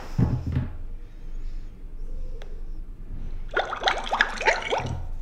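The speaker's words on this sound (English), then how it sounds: "pick these bubbles to be my sound effect" Bubbles from a nature sound effect in a coding game burst out in a quick cluster of bright, rising bloops after a short watery splash and a quiet pause, close and clear.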